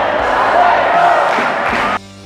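A loud arena crowd roars and cheers during the France vs Canada semi-final at the Worlds, a sustained wash of voices that cuts off abruptly near the end.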